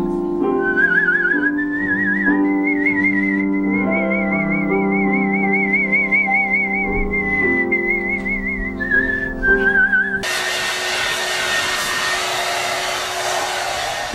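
A competitive human whistler carries a sustained, wavering melody with vibrato for about ten seconds, loud and close, before it cuts abruptly to a harsh, steady rushing noise.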